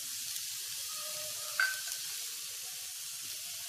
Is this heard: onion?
yes